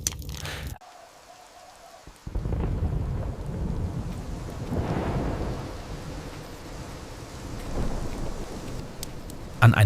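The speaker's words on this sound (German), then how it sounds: "als der Regen wie Peitschenhiebe gegen die Fenster hämmerte" A thunderstorm with heavy rain, a steady wash of rain with low rumbling thunder rolling through, after a brief quieter gap near the start.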